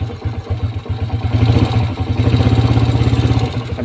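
A Suzuki Shogun SP 125 motorcycle with a droning, whining fault runs loud and close, its engine revved from a rough idle into a steady, rapid pulsing drone that holds to the end.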